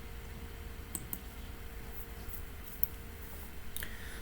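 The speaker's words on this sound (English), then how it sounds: "Alright, so I'm going to just click OK." Computer mouse clicks at a desk: a few faint, sharp, isolated taps scattered over a quiet background with soft hiss.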